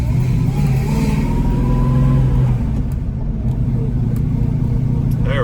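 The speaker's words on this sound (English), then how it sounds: "I can't get the clutch out unless I really rev it." A 1966 Mustang's 289 V8 revs loudly and continuously up close, a rough rumbling drone that swells and eases slightly, with a voice talking briefly over it.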